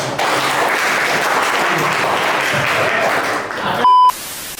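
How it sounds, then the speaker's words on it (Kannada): Loud, sustained applause from an audience at a stage event fills the room evenly for nearly four seconds, then cuts off abruptly into a brief steady electronic beep. "ಗಟ್ಟಿ ಚಪ್ಪಾಳೆ"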